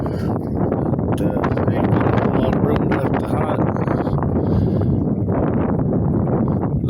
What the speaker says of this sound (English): wind's starting to pick up a little bit